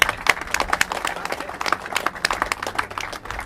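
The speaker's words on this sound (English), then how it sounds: "so big round of applause" Round of applause for Kelvin, honoured for his charity work in the Philippines, at a karting event gathering; dense steady clapping from a crowd, moderately loud with no talk over it.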